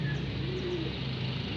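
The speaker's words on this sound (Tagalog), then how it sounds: "So yan mga ibon natin mga kalapatids." Racing pigeons cooing nearby, a soft low warbling coo over steady background noise, brief and close.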